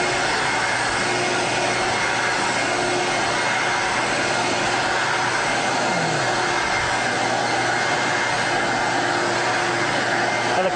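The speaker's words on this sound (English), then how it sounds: "when I'm cleaning with this wand, you have to be hunched over and scrubbing back and forth" Carpet cleaning extraction wand scrubbing back and forth over carpet, a loud constant suction roar with slight shifts in tone as the wand moves, close and steady with no talk.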